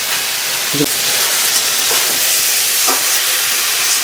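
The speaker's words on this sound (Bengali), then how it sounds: "বেগুনটা এক মিনিট একটু ভাজা হোক কষানো হোক মশলা দিয়ে" Brinjal fries with spices in a hot pan, giving a steady, loud sizzle throughout, broken by a few faint clinks of a spoon against the pan.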